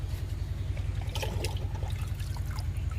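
Homemade liquid plant tonic poured onto a potted plant gives a soft, brief trickle and splash over a constant low rumble, with no talking.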